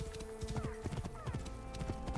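Video-game horse galloping hard into a camp, steady clip-clop hoofbeats running throughout with a short neigh partway through, over a busy background score.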